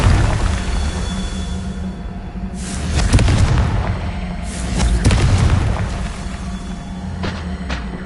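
Fiery Confringo spell blasts from Hogwarts Legacy on PS5, two or three loud booming explosions a couple of seconds apart with crackling tails, set over a constant game background rumble, with no talking.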